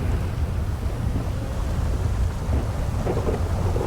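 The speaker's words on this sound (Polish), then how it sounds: "Uwielbiam jak jest burza." A thunderstorm with heavy rain in the video game GTA 5, a dense, constant roar of rain with deep thunder rumbling beneath, loud and unbroken, with no speech.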